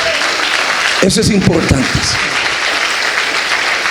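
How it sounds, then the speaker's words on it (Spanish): Church congregation clapping during a sermon, a short burst of applause that swells and fades within about a second, with a preacher's voice speaking over it before and after. "Si usted le da un aplauso a Cristo"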